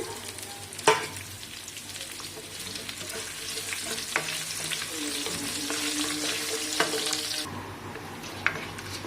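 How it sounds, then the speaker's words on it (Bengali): Chopped onions frying in oil with whole spices such as cumin, cardamom, cloves, bay leaf, cinnamon and star anise, giving a steady close sizzle with occasional stirring clinks and scrapes throughout, no talking. "পেঁয়াজগুলো আধ ভাজা হয়ে গেছে,"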